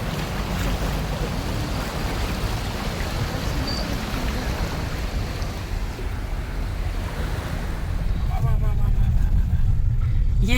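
Vehicles drive through a long stretch of flooded road, their tires sloshing and splashing water continuously over engine rumble and wind noise, growing louder near the end, with a voice speaking in the background.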